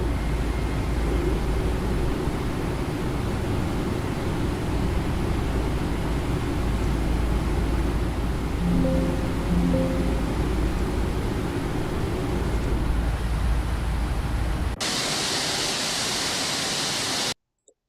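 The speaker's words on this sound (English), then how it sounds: "There we go, 2 engine starts." Airliner engines run steadily after start in the X-Plane 12 flight simulator with a FlightFactor aircraft, giving a dense, even roar and hiss that holds for the whole stretch, shifts tone near the end, then cuts off abruptly.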